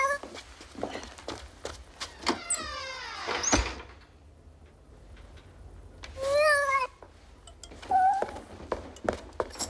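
A cat meows several times, with a drawn-out wavering meow near the start and two shorter, sharper meows later, close and fairly loud over a quiet room with light clatter.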